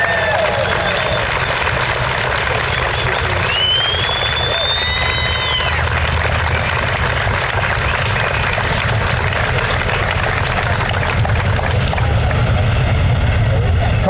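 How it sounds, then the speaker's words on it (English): An outdoor audience at a hometown hero banner reveal ceremony applauds steadily and densely for the whole stretch, a broad wash of clapping with a few whistles and traffic-like rumble underneath. "Let's give him a big round of applause,"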